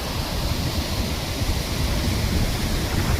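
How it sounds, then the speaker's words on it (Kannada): The Malaprabha river rushes in a steady, loud, broadband roar of flowing water that fills the scene without a break. "ನೋಡ್ರಿ ಆ ನಮನಿ ಹರಿಯತೈತಿ ನೀರ."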